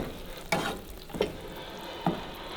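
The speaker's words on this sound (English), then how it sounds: "now I'm going to mix all the sugar and the fish sauce" Sugar and fish sauce being stirred together in a bowl for Thai red curry chicken, with three separate scraping, clinking strokes spaced about a second apart over a steady low kitchen hiss.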